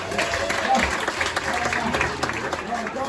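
An audience at a stand-up comedy show claps in a steady, dense wash of applause that lasts the whole stretch, moderately loud, with no clear voices on top.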